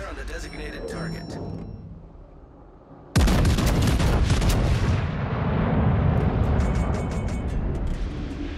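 Video game artillery strike: after a quieter stretch, a sudden heavy boom opens into a sustained roar of explosions and rumbling impacts that stays loud to the end, with game voices and radio chatter around it.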